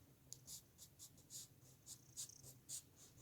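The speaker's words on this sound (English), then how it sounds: "I can use a pencil." A pencil scratching out a jagged line on paper, a quiet series of short, sharp strokes in a quick irregular rhythm, each a brief scratchy burst, close and alone.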